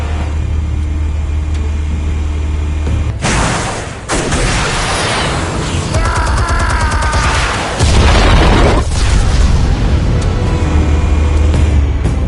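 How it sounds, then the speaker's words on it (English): Explosive charges detonating in a Batman scene, with loud booms and heavy rumbling bursts that swell and hold for several seconds, alone without talk. "Explosives armed. Fire when ready."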